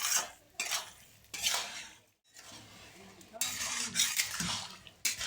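Cabbage is stir-fried with spices in a pan, with bursts of hissing sizzle and clinking spatula scrapes in uneven strokes and a brief pause between them.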